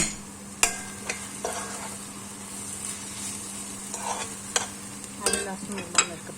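Eggplant fries in a pan under a quiet, constant sizzle, punctuated by a few scattered scraping clicks as a spatula stirs it, close but soft, with no voices.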